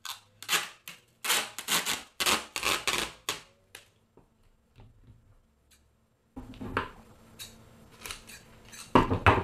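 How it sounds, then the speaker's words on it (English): Tape pulled and torn while being applied over a wig mold, coming in bursts of sharp ripping and crackling, close and fairly loud, with a quiet pause in the middle. "I'm going to tape this again, just like I did with the hairline, making sure that I cover everything."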